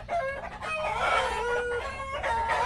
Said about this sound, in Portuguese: Ah, um macaquinho, né? São eles que estão fazendo barulho.